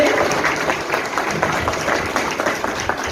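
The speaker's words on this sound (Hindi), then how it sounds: "जोरदार तालियों से उनका स्वागत करें" Steady, dense applause from a crowd welcoming an honoree at an award ceremony for Covid warriors, many hands clapping together at a constant loud level for the whole stretch.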